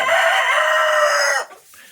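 A young rooster crows loudly and close by in one sustained, harmonic call lasting over a second, then it cuts off into near silence.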